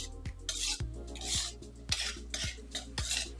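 A utensil stirring and scraping wheat flour as it roasts in ghee in a metal pan, with repeated rhythmic scrapes and clinks close up, quiet and without talk.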